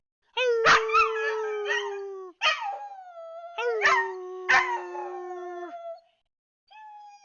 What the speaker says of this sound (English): She's a howler. She likes to howl.